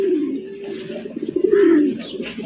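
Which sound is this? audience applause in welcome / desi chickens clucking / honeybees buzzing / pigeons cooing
pigeons cooing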